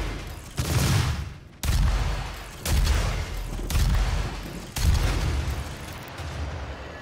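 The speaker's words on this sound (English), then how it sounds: "Oh, it was a shotgun, not a missile launcher." Booming shotgun blasts from the Doom 2016 video game fire in a steady sequence of about five heavy, loud shots roughly a second apart, each with a thick low-end thump and a noisy tail.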